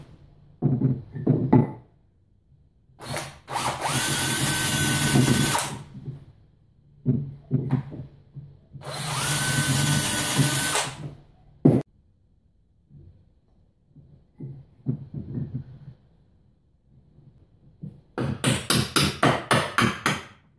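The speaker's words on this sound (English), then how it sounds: "now we're going to pre-drill it, glue it, and start nailing it together" A power drill pre-drills holes in pallet wood for a table frame with a coin top, giving two long, loud whirring bursts of several seconds each, separated by short knocks and handling clatter, with a rapid burst of drilling or tapping near the end.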